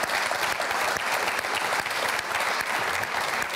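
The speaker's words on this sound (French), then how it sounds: "Messieurs, mesdames, applaudissons les Dauphines et bienvenue à elles." An audience in a hall gives the Charleroi Dauphines volleyball team sustained, steady clapping, a dense even applause with no voices standing out.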